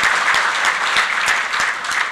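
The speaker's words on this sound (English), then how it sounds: "Let's give them a round of applause." Steady, dense applause from an audience at the 2014 Sam's Club finals, loud and continuous for the whole stretch with no talking over it.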